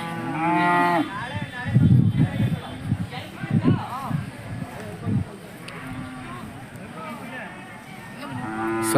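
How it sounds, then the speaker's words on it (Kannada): Hallikar cattle at the Jodugatte livestock fair in Turuvekere taluk, Tumakuru district, lowing repeatedly with deep, drawn-out moos close by, over a murmur of background voices and general fair noise. "ಜೋಡುಗಟ್ಟೆ ದನಗಳ ಸಂತೆ"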